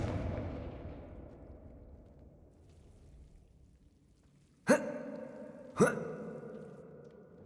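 A Confringo blasting spell cast in Hogwarts Legacy, a fading boom followed by two sharp, loud blasts about a second apart, each with a short ringing tail.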